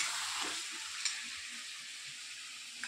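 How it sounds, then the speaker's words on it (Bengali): Meat sautés kosha-style in a pan for a thin potato curry. A continuous hissing sizzle sits close by, broken by a couple of brief stirring knocks, with no voices. "তো দেখো এখন কিন্তু মাংস কষাতে শুরু করে দিয়েছি।"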